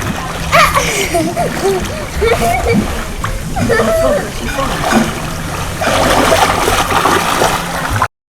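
Water splashes and sloshes loudly as children swim at a waterfall in Gabaldon in the Philippines, with excited children's voices and chatter throughout.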